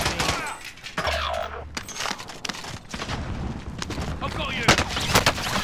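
Gunfire in a battle-royale video game final circle, with rapid bursts and sharp single shots cracking repeatedly over several seconds while players shout over the shots.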